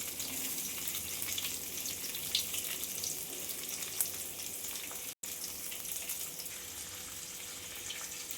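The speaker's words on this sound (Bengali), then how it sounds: "এইবার আমি এর মধ্যে আমার এই নুন হলুদ মাখা কাটা আমগুলো এই তেলের মধ্যে দিয়ে নেব।" Chopped mango pieces coated in salt and turmeric hit hot oil that already holds tempering spices. A loud, continuous sizzle runs throughout, with a momentary dropout partway through and no speech.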